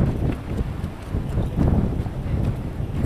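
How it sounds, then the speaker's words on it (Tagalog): Strong wind buffets the microphone outdoors in the rain on an Ilocos tour, a steady broadband roar with gusty swells throughout, loud and continuous with no voices. "sobrang lakas ng hangin"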